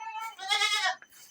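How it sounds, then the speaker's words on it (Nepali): A goat in a village gives a single clear, wavering bleat close by, lasting just under a second, followed by a brief quiet tail. "यहाँ बाख्राहरू"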